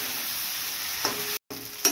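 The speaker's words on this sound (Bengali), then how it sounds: "পটলগুলো আমি ভাজতে ভাজতে সিদ্ধ করবো" Pointed gourd (potol) frying in ghee with turmeric and salt, a steady bright sizzle broken by a brief cut, with a couple of stirring scrapes.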